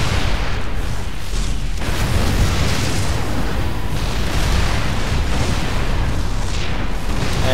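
Tank fire and explosions from the video game StarCraft II on the Shattered Temple map rumble constantly and loudly, heavy booms layered into a dense, unbroken barrage.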